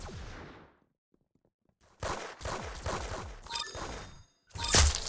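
Rapid bursts of gunfire from the Roblox shooter game Arsenal, a loud volley at the start, then a short silence before dense repeated shots with sharp metallic pings, ending in a strong blast.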